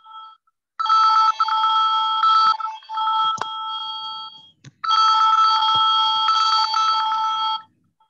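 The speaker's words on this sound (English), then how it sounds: "Pushpanjali, your phone ringing" A telephone rings in two long bursts of bright, warbling electronic trill separated by a short gap, loud and close, with no talk over it.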